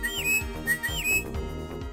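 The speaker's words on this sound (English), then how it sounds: "Whistling." Whistling from the video game Christmas NiGHTS Into Dreams: short rising and falling whistle glides repeat over a light musical backing, fairly quiet and with no talk.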